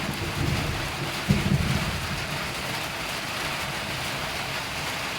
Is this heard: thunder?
yes